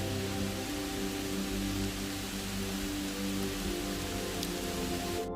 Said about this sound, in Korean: 아이고 비가 너무 큰 비가 내리네요.